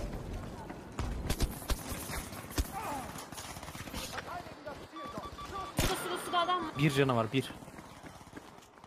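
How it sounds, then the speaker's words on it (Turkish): Fast running footsteps thud in a steady patter during a Battlefield 5 match on Operation Underground. They sit under constant excited talk between players. "Ayak sesi var."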